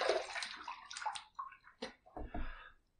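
Water splashes and sloshes in short bursts as a man rinses his face after a close three-pass shave with an aluminum safety razor, with irregular nearby swishes and drips and no talking.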